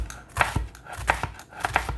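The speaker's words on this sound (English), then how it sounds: "So I'm going to dice those guys up." A knife dices pepper, garlic and onion on a cutting board, giving a handful of irregular close chops and taps at a moderate level.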